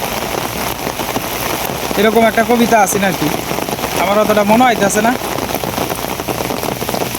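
Sudden rain pours steadily onto outdoor surfaces, a dense continuous patter throughout, with a person speaking over it in the middle.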